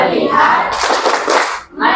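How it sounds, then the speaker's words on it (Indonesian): A classroom of students does a rhythmic focus clap, a burst of brisk group clapping in the middle of the clip, with voices before and after it. "Tepuk fokus."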